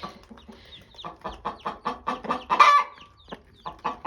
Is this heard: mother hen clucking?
yes